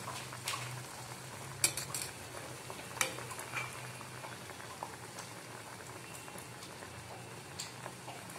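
Bottle gourd (lauki) vadas fry in oil over low heat until crisp, a quiet, even bubbling sizzle with a few faint utensil clinks, with no talking.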